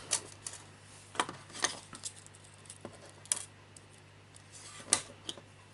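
A metal crimp sleeve being crimped onto fishing line, with faint, sparse metallic clicks and small taps scattered over quiet room noise.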